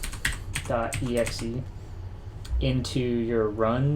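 Keystrokes clatter on a computer keyboard at a Windows PC, short bursts of clicks near the start and again later, while someone talks over and between them.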